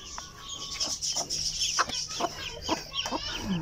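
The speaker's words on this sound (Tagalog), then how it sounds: "ito nga pala yung mga cute niyang sisiw" Newly hatched Silkie chicks peeping in a backyard, a continuous chorus of high, close chirps.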